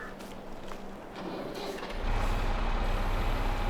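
A Massey Ferguson 135 tractor in a farming game rumbles steadily, its engine note deepening and growing louder about halfway through as it pulls away, with no talk over it.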